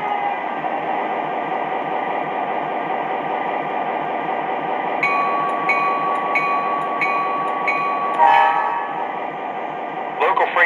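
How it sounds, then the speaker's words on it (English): An MTH SD24 New York Central model locomotive running around a layout, a steady loud mechanical hum and whir throughout, with faint metallic clinks and beeping tones joining partway through. "These are pretty hefty locomotives, and they've got a lot of pulling power."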